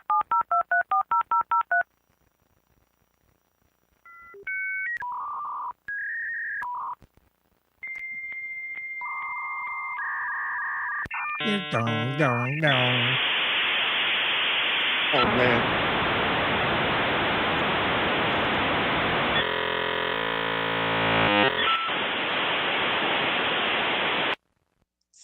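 A 28.8 dial-up modem connects, opening with touch-tone dialing beeps, then handshake tones and chirps, giving way to a loud, sustained hiss of static with warbling bursts before it cuts out. A voice speaks briefly over it.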